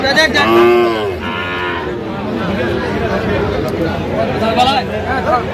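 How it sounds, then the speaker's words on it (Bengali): A Sahiwal calf moos loudly and close by at a cattle market, one long drawn-out call at the start followed by a shorter one, with a babble of buyers and sellers talking underneath. "শাহিওয়ালের বাচ্চা"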